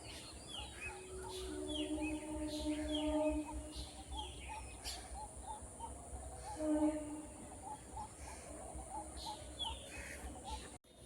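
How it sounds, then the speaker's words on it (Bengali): Ducks on water and other fowl call repeatedly outdoors, with honking quacks and chirps layered over a steady background hum. "জলে হাঁসগুলো খেলছে"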